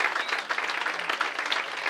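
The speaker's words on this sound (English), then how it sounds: "big round of applause for them too" A short burst of dense audience applause at an awards presentation night, steady and fairly close, with no talk over it.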